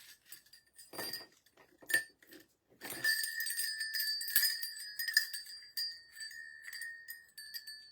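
Three Christmas decor bells jingle and tinkle in short bursts, then ring on in a sustained bright shimmer, close and fairly loud with no talking.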